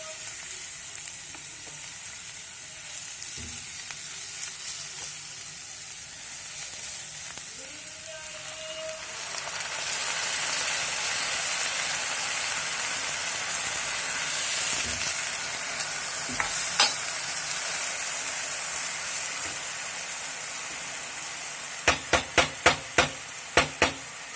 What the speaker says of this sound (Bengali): পেঁয়াজ, আদা, রসুনটা ভালো করে ভাজা ভাজা হয়ে গেছে।